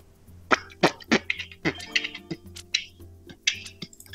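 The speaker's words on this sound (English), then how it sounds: "Cough." Several sharp coughs or throat-clearing bursts from a player in a casual Uno game session, arriving in an irregular series of short loud bursts close to the microphone.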